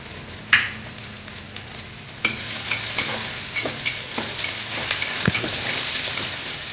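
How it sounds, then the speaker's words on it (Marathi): Crushed garlic cloves and cumin seeds sizzle in hot oil for a fenugreek leaf dish, a steady close crackling hiss with a sharp pop early on and a few louder spits, no talking. "तेल गरम झालं की त्यामध्ये या लसणाच्या पाकळ्या मी चेचून घेतलेल्या आहेत. त्याच्यावरती थोडंसं आपण जिरं घालणार आहोत."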